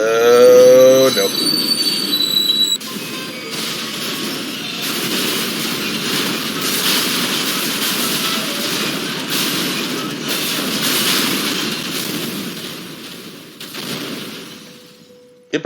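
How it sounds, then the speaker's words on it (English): Amtrak locomotives tipping over and slamming into an MBTA commuter train: a loud, sustained rumble of rolling rail cars with metallic squealing wheels, fading toward the end, with no talking. "The Amtrak locomotives tip over and slam into the MBTA train."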